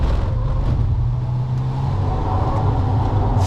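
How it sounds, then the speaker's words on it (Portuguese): Fiat Pulse Abarth T270 driven hard on a track, a low steady engine drone with road rumble heard close inside the car, no talk. "a gente está judiando muito do carro aqui na pista"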